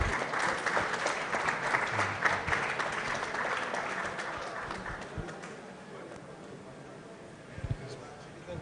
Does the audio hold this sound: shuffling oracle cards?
no